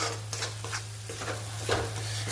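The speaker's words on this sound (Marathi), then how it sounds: "आता याला कंटिन्युअसली हलवायचं जोपर्यंत या मसाल्याला तेल सुटत नाही" Red spice masala for vegetable kurma is stirred in a pan with a spoon, producing a few soft scraping strokes over a faint steady sizzle and a low background hum, close and fairly quiet.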